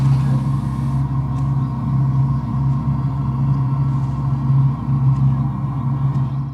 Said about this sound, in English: Here's the noise this car makes when it's in drive at low speeds.